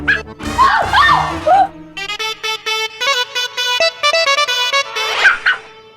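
A small dog yelps and whimpers in a rapid string of high, whiny cries, close by, with a brief burst of voices at the start.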